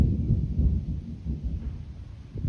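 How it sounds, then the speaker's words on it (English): A low, rolling rumble of distant thunder swells and fades over a couple of seconds ahead of rain, with no voices present. "Did y'all hear that thunder?"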